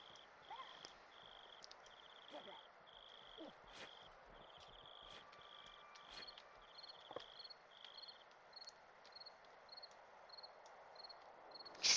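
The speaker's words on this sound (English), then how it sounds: "More crickets chirping, not birds." Crickets chirp in the video game Castle Story, a rhythmic, repeating high trill of evenly spaced pulses over a quiet ambient background with soft rustles and footsteps.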